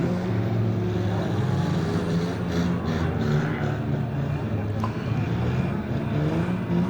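Modified derby race car engine bouncing off the rev limiter at a night race, a loud, steady buzzing drone with dense harmonics and slight stutters, continuous throughout with a commentator speaking over it.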